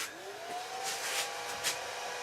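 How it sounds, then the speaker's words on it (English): A woodturning lathe hums steadily as it runs, a smooth mid-pitched whine with faint rising tone as it spins up, close and alone without talk. "Turn the lathe on, of course."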